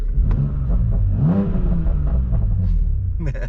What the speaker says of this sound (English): stock exhaust, and it sounds as good as that